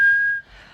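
A person imitates a husband's whistling as he comes home, producing a single clear, sustained whistled tone that drops off abruptly, followed by a faint breathy tail.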